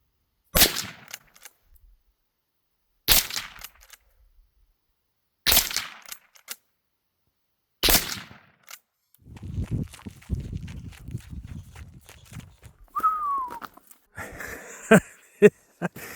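A Winchester 9422M lever-action rifle fired at 50 yards, four sharp, loud shots spaced a couple of seconds apart, then rustling, handling noises and shuffling with faint mumbling.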